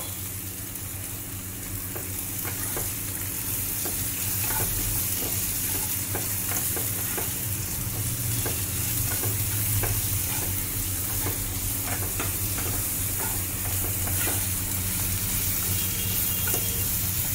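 Onions fry in a pan, a steady dense sizzle with repeated spoon scrapes and stirring taps throughout, close and alone without voices.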